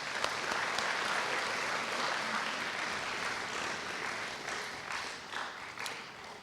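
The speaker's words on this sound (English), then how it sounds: "Give yourselves a round of applause." A full audience applauds at a scholars and sisters recognition day ceremony, a dense, steady round of clapping with sharp individual claps standing out, holding strong and then easing slightly toward the end.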